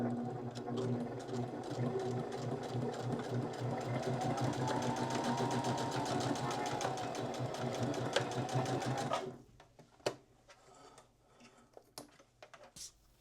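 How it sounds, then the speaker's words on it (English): Sewing machine stitching across the side of a dog bandana made from a shirt, a rapid steady mechanical ticking run for about nine seconds before stopping, followed by faint handling sounds. "and then you will also just sew across that side."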